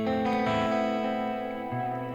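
An electric guitar run through an ILLUMINE reverb pedal with its tone set at midpoint and the expression heel down rings with a bright, shimmering reverb wash, sustained chords blooming and decaying with a fresh attack near the end, no talking.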